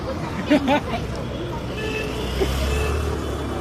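On a public road in Satara, a passing vehicle brings a low rumble that swells toward the end, set among crowd babble and nearby voices.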